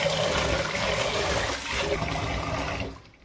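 Rice grains being washed by hand in a pot of water, a steady close swishing and sloshing of liquid that runs continuously and fades out at the end.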